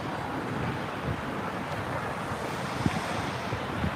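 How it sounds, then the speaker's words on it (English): Breezy wind rushes past the microphone while riding a motorcycle through city streets from Shibuya toward Omotesando, a steady broadband roar with a few faint thumps, no talking. "It's a little breezy."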